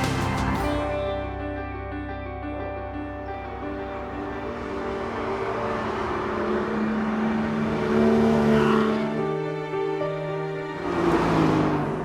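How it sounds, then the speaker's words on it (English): A Porsche Boxster GTS with the roof down drives a mountain road in Mallorca, its engine note droning steadily with harmonic layers and swelling briefly as it revs up near the end, close and continuous with no talk. "I'm driving a Porsche Boxster, roof down, good weather, on a mountain road in Mallorca."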